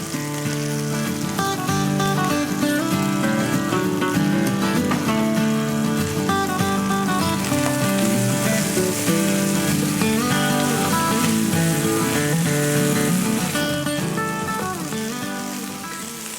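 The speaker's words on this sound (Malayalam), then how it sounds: "നമ്മുടെ ഈ ചിക്കൻ ഒന്ന് ഷാലോ ഫ്രൈ ആയി കഴിഞ്ഞ് നമുക്കിനി ഇതൊന്ന് കോരിയെടുക്കാം" Chicken shallow frying in oil sizzles loudly and steadily, a dense crackling hiss that runs on alone without talk.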